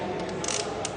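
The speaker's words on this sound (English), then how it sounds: "I'll reel it in here." A spinning fishing reel being cranked in while rigging for trolling and casting, a brief close mechanical whir with a light ratcheting texture and a couple of faint clicks.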